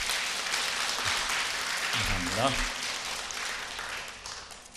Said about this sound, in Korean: 여러분 박수로 환영해 주십니다.